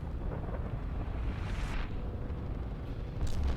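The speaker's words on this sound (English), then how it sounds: "So we'll go ahead and watch the explosion." An orbital strike explosion in a video game sounds as a loud, sustained rumbling roar with a deep low boom and hissing debris, swelling slightly toward the end, with no talking.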